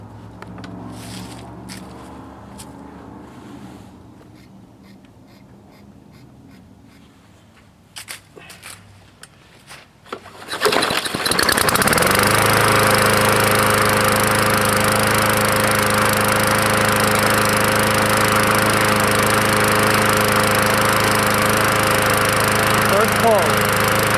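A Yard Machine lawnmower with a Briggs & Stratton 550E 140cc engine is pull-started outdoors on a cold day and roars into a steady, loud, close idle, after quieter rustling and clatter beforehand.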